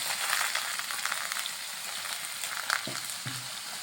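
Vegetables seasoned with salt and turmeric fry in a pan with a steady, close sizzle, broken near the end by a couple of brief utensil knocks.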